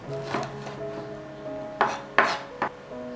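A knife cuts chicken into cubes on a board for a creamy zuppa soup, with a few sharp, quiet chops and scrapes standing out over a steady low hum, with no talking.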